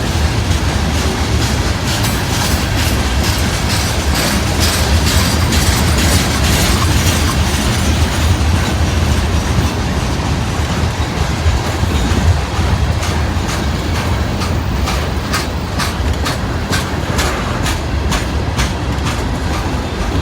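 Freight trains roll through Canal Ridge on a busy Saturday, a loud, steady rumble of rail cars with rhythmic clickety-clack from the wheels over the joints, continuing without a break for the whole stretch.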